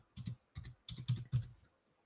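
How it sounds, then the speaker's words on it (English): Typing on a computer keyboard: a few short clusters of soft, close key clacks with brief gaps between them, and no one speaking. "We're going to type in something here."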